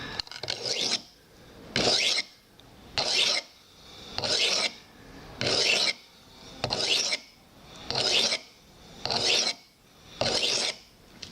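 A knife blade drawn repeatedly across a sharpening stone, nine even rasping strokes about a second apart with short pauses between, close and clear with no talking.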